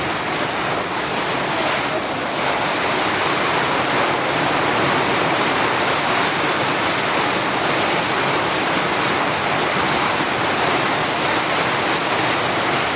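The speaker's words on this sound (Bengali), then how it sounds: "শুরু হয়ে গেল ঝুম বৃষ্টি।" Heavy downpour drumming on a tin roof in a village, a dense, loud and constant hiss of rain, steady and unbroken throughout, with no voices.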